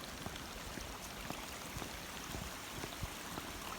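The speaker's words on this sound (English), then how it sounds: "So this is where the water is flowing." Water flows steadily in a creek beside a Jackson County road in Kentucky, a faint continuous rushing hiss with soft trickling splashes throughout.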